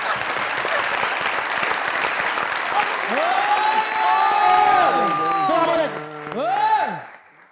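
Studio audience applause on a comedy talk show, loud steady clapping with cheers and shouts, then voices and a musical tune rising near the end before fading out.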